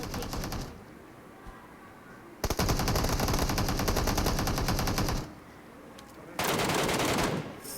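Rapid automatic gunfire from the video game PUBG Mobile comes in two loud, dense bursts, each lasting a couple of seconds. They are separated by quieter stretches of background game ambience.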